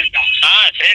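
Telephone tones from a call ending on Boat Airdopes 500 ANC earbuds, a steady electronic tone broken by short gaps, loud and close with no other sounds.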